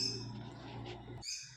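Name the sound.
birds chirping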